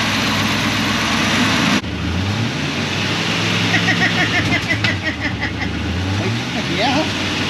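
A 1984 Chevy C10 engine idles after a cold start, a low steady rumble that dips sharply early on and then keeps running unevenly, with a person talking over it.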